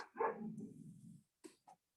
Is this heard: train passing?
no